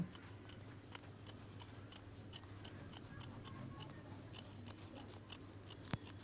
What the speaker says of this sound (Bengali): এবার আমি কেঁচে সাহায্যে বাইরের দিকটা আগে কেটে নেব